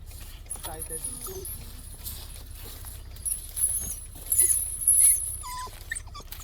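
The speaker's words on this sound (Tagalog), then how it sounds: "Take a video of those dogs behind you." Dogs whimper and bark excitedly nearby over a steady low hum, with jangling and shuffling sounds and a louder burst of yelps toward the end.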